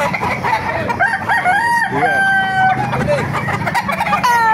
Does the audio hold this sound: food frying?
no